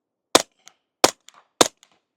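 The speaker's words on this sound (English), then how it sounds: "Let's hit two into the berm just so you can hear it." Three sharp, close suppressed rifle shots from an Accuracy X AXE-34, fired into a dirt berm, each a short cracking pop followed by a brief faint echo, evenly spaced with silence between.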